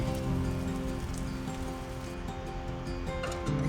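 Steady rain falls on a forest road in the Malenadu hills near Chikmagalur, a dense, even hiss of drops pattering on surfaces and leaves throughout, with no speech.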